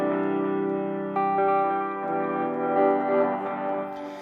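A sustained music loop run through lo-fi delay and reverb effects produces a smeared, echoing, slightly distorted tone with layered tails, heard clearly with no talking.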